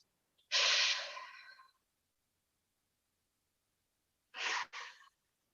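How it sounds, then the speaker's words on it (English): Two deep breaths during a quiet stillness session: a long, loud exhale up close, a silent pause, then a shorter, broken breath that trails off. "5 good deep breaths"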